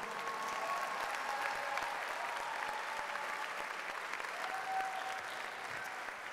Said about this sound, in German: der Applaus war jetzt Mitleid